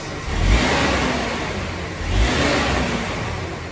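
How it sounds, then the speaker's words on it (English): A car engine revved with a few quick throttle snaps, two surging bursts that rise and fall back, heard close and loud with no talking. "Okay, so I'll give it a few throttle snaps."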